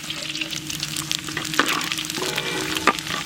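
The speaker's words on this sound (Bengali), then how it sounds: "তেল কড়াইতে পড়ে গেছে, ফোড়নে আছে গোটা গরম মশলা," Whole garam masala and cumin seeds sizzle in hot oil in a wok, a steady close frying hiss with a couple of sharper pops, no voices.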